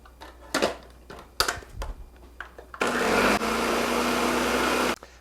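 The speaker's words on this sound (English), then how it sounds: "add the 3 egg yolks and the lemon juice to a blender and blend it for 10 seconds until it's frothy" A Ninja blender blends egg yolks and lemon juice: a few clicks and knocks first, then a loud, steady motor whir running for about two seconds before cutting off.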